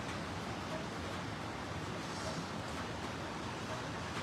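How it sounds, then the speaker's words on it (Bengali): Sea waves wash ashore at Cox's Bazar beach in a soft, continuous surf rumble, faint and distant, with some wind noise mixed in. "সাগরের ঢেউ, সাগরের সাউন্ড,"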